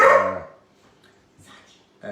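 A pet dog barks loudly and close in a home kitchen during a live cooking session, one bark at the start and another at the end, with a few faint yips between.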